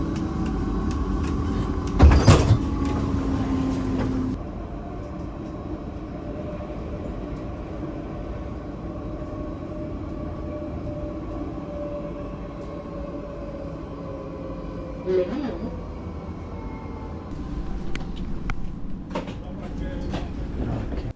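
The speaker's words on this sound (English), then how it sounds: "So this is Tram 2 and up there you can, I started from La Défense" Paris Tram 2 running from La Défense, heard from inside as a steady low rumble and hum of the rolling car, with brief clunks and a higher whine near the start and a few rattles later on.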